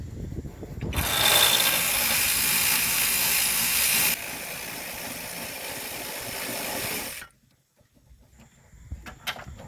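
A 17 mm wrench works a bolt loose during engine removal on a 1999 Honda Accord. A loud, harsh mechanical whirr runs for several seconds, drops slightly in level, then cuts out, followed by faint clicks and taps.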